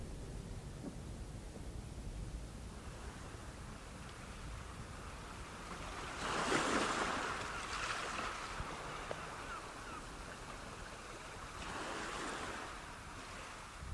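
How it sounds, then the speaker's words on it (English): Sea waves washing onto a beach, a faint, continuous wash of surf with a louder swell breaking midway and another softer surge near the end. "When I close my eyes, I can hear the sea."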